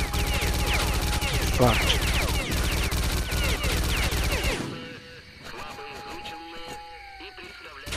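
Enemy gunfire in S.T.A.L.K.E.R.: Clear Sky, dense rapid bursts of shots loud through the first half, then sparser scattered cracks, with a man cursing over it.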